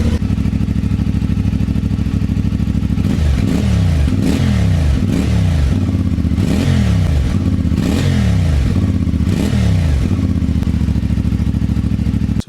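A CFMoto 450MT motorcycle on its stock exhaust, idling with a steady loud thrum, then revved in a series of about seven quick blips that rise and fall before it settles back to idle.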